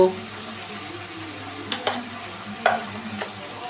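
Powdered spices being stirred in a frying pan: a soft low sizzle with a few distinct scraping strokes and clinks of the spoon against the pan, close and intermittent.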